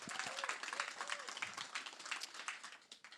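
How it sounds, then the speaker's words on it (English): An audience applauds at a summer documentary institute screening, a dense, steady wash of many hands clapping for about three seconds, with a few voices calling out over it. "I just want to give a big round of applause for them for working so hard"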